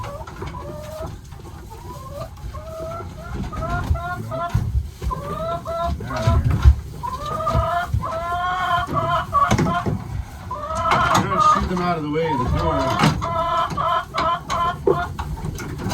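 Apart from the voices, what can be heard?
chickens clucking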